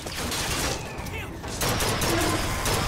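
Rapid turret gunfire in Bioshock Infinite, a dense, loud fusillade of shots that continues throughout with a burst of intensity partway through, while a player's voice is heard over it.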